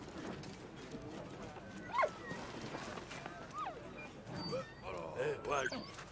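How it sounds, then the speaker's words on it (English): A dog barks a few times in the World War I adventure game Valiant Hearts: The Great War, with short yelps rising over a steady bed of game ambience and background sound. "What are you barking for?"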